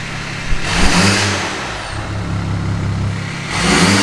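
A modified diesel car engine revs up twice with a deep throaty roar, holding steady between bursts, loud and close.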